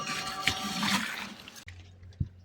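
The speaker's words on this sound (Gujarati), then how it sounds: "હવે આપણે અંદર પાણી ભરી લઈએ છીએ જુઓ" Water rushes into a spray tank already holding copper sulphate and lime for spraying mango trees, a close gushing pour that cuts off abruptly after about a second and a half.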